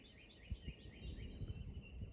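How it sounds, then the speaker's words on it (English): Faint, high chirps from baby birds in a nest repeat in quick clusters outdoors, set against low background rumble and wind, with no talk. "I hear the baby birds."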